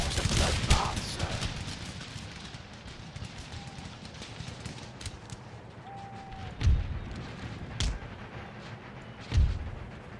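Musket volley fire in the Empire Total War video game on a battlefield: several distant booming volleys spaced a few seconds apart over a continuous rumbling battle ambience.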